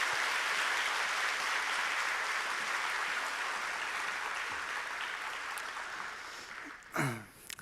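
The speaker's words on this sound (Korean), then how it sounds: "사랑합니다 축복합니다 마음을 담아서 박수로 모시도록 하겠습니다." Congregation at a Sunday church service gives steady, distant-sounding applause to welcome a missionary speaker, the clapping gradually tapering off before a voice cuts in at the end.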